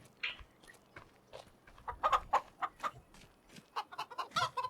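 Chickens in the video game Farming Simulator 25 cluck in quick, scattered bursts, building to a busy flurry near the end, with no talking.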